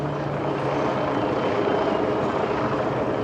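Helicopter in flight overhead, a steady droning rotor and engine wash with no break, moderately loud and continuous throughout.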